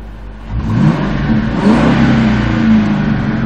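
A 2004 Ford Mustang GT with 81k miles revs its engine up from idle into a loud, sustained throaty roar, close by, holding high with slight swells and no talking.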